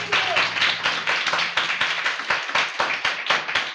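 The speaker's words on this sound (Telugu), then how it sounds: "చప్పట్లు కొట్టు." Congregation clapping hands at a live Sunday church service, a rapid steady run of overlapping claps from many people at moderate loudness, with a faint low hum underneath.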